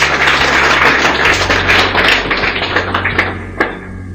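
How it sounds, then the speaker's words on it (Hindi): Audience applause for a speaker at a network-marketing meeting, a dense burst of clapping that thins into scattered individual claps as it fades out. "तालियां बजा दें इनके लिए एक बार।"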